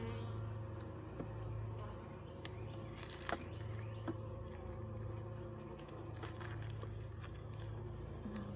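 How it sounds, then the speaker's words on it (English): Dense, steady hum of a mass of honeybees covering the frames of an open backyard hive during a split, a continuous low drone with a few faint clicks and rustles on top. "There are tons of bees."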